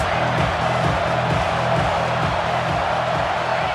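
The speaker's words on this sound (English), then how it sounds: "Big third down as the crowd gets behind this defense." Stadium crowd in the College Football 26 video game roars steadily through a big third down, a dense continuous wash of cheering and whoops with crowd voices mixed in.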